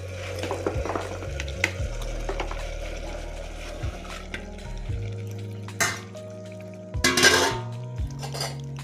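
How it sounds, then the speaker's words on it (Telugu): Spiced chickpeas tipped into a pan of cooked-down tomato and onion, with close clinks and scrapes of a spoon against the pan and a soft sizzle underneath, no talking. "ఇలా టమోటా, ఆనియన్ మగ్గాక కారం, పసుపు కలుపుకున్న శనగగుగ్గులను వేసుకుందాం."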